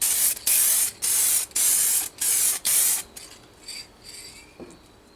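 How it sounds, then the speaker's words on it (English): Five sharp hissing bursts of activator sprayed from an aerosol can for a hydro-dip kit, evenly spaced with short pauses, followed by faint quieter rustling and handling sounds. "Spray this on here."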